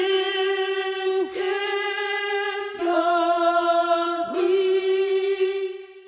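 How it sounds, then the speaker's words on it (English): Sampled gospel backup singers from the EastWest Hollywood Backup Singers library, three voices per note singing the phrase "Give Him Glory" as a few sustained single notes with brief breaks between, clear and close. "each of which features three singers singing together."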